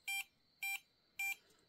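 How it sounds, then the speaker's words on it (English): Electronic detector beeping after being laid on a book in an abandoned house: three short, evenly spaced high-pitched beeps about half a second apart, clear against a quiet room. "As soon as I lay it down, it starts beeping."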